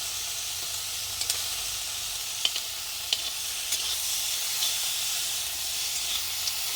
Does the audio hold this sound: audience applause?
no